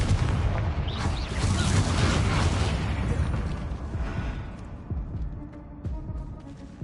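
A Confringo fire spell bursts in Hogwarts Legacy with a loud, dense roaring blast that fills the first few seconds, then rumbles and crackles as it slowly fades, with no talking.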